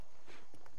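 Horse hooves clip-clopping in the Western video game Red Dead Redemption, a few brief hoof strikes heard close and moderately loud over a faint background.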